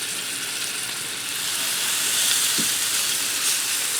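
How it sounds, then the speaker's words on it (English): Pork tenderloins browning in a hot skillet give off a steady, broad sizzle that holds at an even level throughout, with a brief soft knock partway through. "Now I'm going to get my pork tenderloins in here, and I'm going to brown both sides up till they get nice and golden brown."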